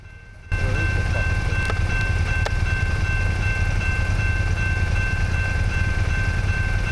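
A loud, steady rumble of a train passing a railway crossing fills the scene after a quieter opening, with a constant tonal hum and occasional clanks, no talking.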